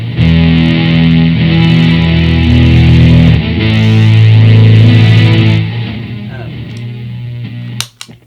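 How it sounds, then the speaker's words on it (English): A Mellotron 9 synth pedal plays loud, sustained, buzzy chords with heavy distortion and a noisy texture, shifting pitch partway through before cutting off abruptly at the end. "So this is a synth, this is the Mellotron 9, and so this has different synth controls."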